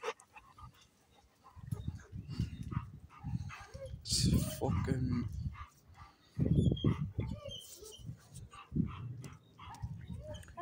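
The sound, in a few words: dog barking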